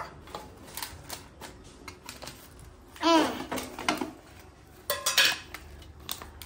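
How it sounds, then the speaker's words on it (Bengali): A plate set down over an oiled banana leaf while cooking fritters of ridge gourd, sesame and rice paste, heard as a few short clinks and scrapes of crockery with sharper knocks near the middle and end. "আর আরেকটা প্লেট এরকম দিয়ে দেব"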